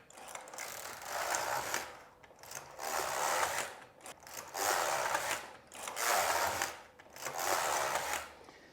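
The lock of a Passap Duomatic 80 double-bed knitting machine is pushed back and forth across the needle bed, giving a steady series of ratcheting, whirring passes, each lasting about a second, with brief pauses between them.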